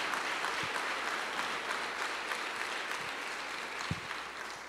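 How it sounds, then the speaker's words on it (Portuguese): A church congregation applauds during a worship service, a steady wash of many hands clapping, even and sustained, with no voices standing out. "Aplauda o Senhor Jesus."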